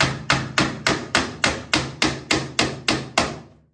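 Hammer driving plastic dowels into an oak-finish office roll container, about a dozen sharp, evenly spaced blows in steady rhythm, close and loud with no talking.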